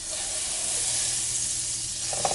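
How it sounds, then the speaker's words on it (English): A pat of butter, just over a tablespoon, melts in a hot pan with a broad, steady hiss; a few small crackles come near the end, and no one talks. "Who doesn't love the smell of butter melting?"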